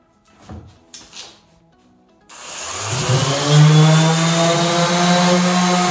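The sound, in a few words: electric sander scuff sanding vintage desk with 220 grit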